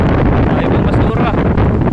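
Strong squall wind roars and buffets the microphone continuously, a loud, rough rushing noise with no pauses.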